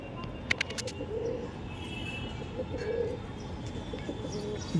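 Pigeons coo softly in low, rolling calls over a steady background hum, with a few brief chirps early on, fairly near.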